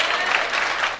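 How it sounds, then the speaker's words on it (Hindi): Students in a classroom clap together during an accounting mathematics lesson, a dense, even patter of applause lasting about a second. "ताली बजाते ही रहना"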